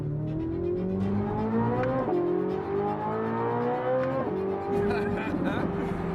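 A brand-new Corvette engine revs hard toward its redline, loud and continuous, its pitch climbing steadily and then dropping twice at gear changes before climbing again.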